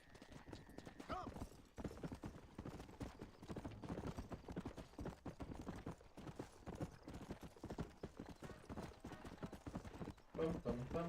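Horse hooves clip-clop steadily and close by in the Red Dead western video game, a continuous rhythmic clatter with a brief whinny-like tone and some speech mixed in.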